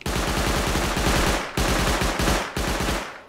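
Automatic gunfire in the survival video game Rust, three long loud rapid-fire bursts close by, each cut off by a brief gap.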